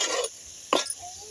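A spoon scrapes and stirs curry with a handful of coriander in a pot, two short bursts of stirring with a quiet pause between, close by.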